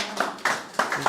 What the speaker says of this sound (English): Round of applause for Mr. Emmanuel.